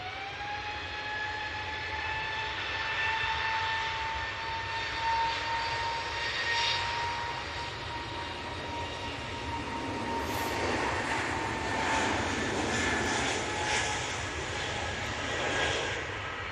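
An airliner departs Manchester Airport bound for London Heathrow, its steady engine whine holding high tones while a broad roar swells and rolls, sustained and moderately loud with no voices.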